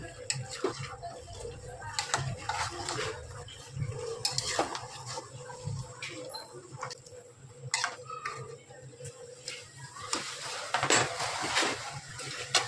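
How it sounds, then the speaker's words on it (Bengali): Vegetables for a pumpkin and pui shak shukto are stirred in a covered kadai over medium-low heat, with a spatula scraping and clinking against the metal in irregular bursts, over a faint simmering sizzle. "5 মিনিট পর কড়াইয়ের ঢাকনা খুলে আমি সবজিটা একবার ভালোভাবে নাড়িয়ে নেব।"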